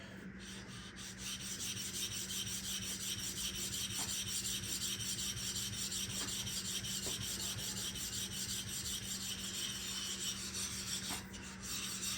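A hand plane blade is rubbed back and forth on a sharpening stone to flatten it, making a continuous close rasping scrape with a faint steady hum beneath and no talking.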